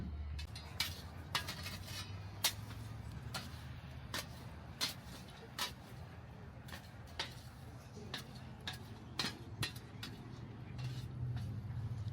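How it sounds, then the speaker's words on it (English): An old shovel scrapes and clinks against wood fire coals at a chuckwagon cookoff in Pigeon Forge, sharp metallic ticks repeating roughly every half second over low outdoor rumble. "Stirring the wood fire coals."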